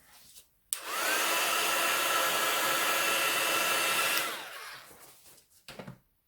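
A hair dryer blowing on a craft sheet to dry ink, switched on abruptly and running at a steady loud whoosh for about three and a half seconds before winding down, followed by light handling noises.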